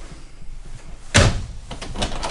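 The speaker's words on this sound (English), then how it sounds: "And a mirror door medicine cabinet." A mirrored medicine cabinet door in the bathroom of a 2023 Crusader 382MBH RV opens with one sharp clack, followed by a few softer knocks and rattles.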